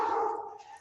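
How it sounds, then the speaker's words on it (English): A dog barks close by in one short, loud burst that fades over under a second. "I'm sorry about the dog barking."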